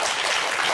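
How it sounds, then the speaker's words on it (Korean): Studio audience applause during a Korean morning talk show lecture, a brief dense burst of clapping, steady and moderately loud. "저 두 분께 박수 한번 주시기 바랍니다"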